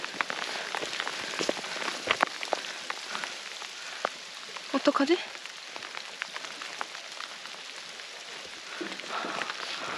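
Heavy rain patters densely and steadily on a mountain trail during a solo backpacking trip, close and busy throughout, with a brief spoken voice partway through.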